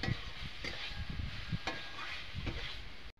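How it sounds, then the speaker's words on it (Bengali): Stir-frying boiled banana flower with fried spices in a pan, a steady close sizzle with soft scraping stirs repeating every half second or so, then an abrupt cutoff at the end. "দিয়ে ভালোভাবে আমি লাড়াচাড়া করে ভাজিয়ে নেব"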